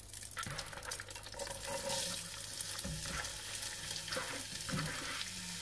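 Peppers and onions sautéing in butter over medium heat for ratatouille, a soft, fairly faint sizzle broken by a few stirring scrapes and clinks, no talking.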